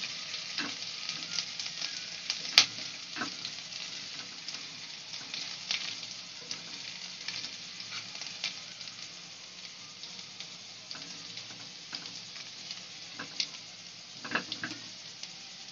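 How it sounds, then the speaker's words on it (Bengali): Garlic and chilli sautéing in hot oil in a pan for egg Hakka noodles, a steady close sizzle with occasional stirring clicks and scrapes throughout, no talk. "রসুন আর লঙ্কাটা দিয়ে দেবো, দিয়ে একটু সতে করে নেব।"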